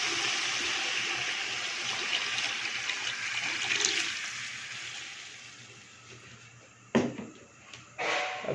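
Water gushes steadily into a prepared spice masala in a cooking pot for an aloo matar pulao, a continuous close pour that tapers off, followed by a couple of brief knocks.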